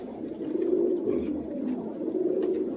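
Pigeons coo softly nearby, a low, rolling, repeated cooing that carries on almost without a break, with no voices.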